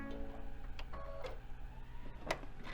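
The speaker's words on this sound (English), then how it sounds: "It's a nice big fat juicy basting stitch, and it moves the needle a little bit to the left" A sewing machine runs a long basting stitch with its needle set to the left while sewing a quilt border, a quiet, steady mechanical whirring with soft ticking close by.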